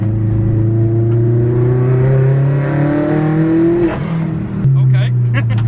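A tuned 360bhp Mk4 Golf accelerates hard from inside the cabin, its engine note climbing steadily through the revs before a gear change and another rise, loud and continuous.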